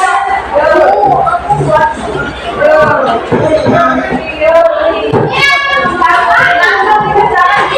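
Students in a classroom clap their hands in bursts, rhythmic group clapping mixed with children's chatter and a teacher's voice.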